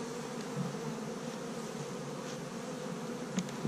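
Bees buzz steadily at an opened beehive during a hive inspection, a dense, even drone held close to the microphone with a few brief louder passes of individual bees.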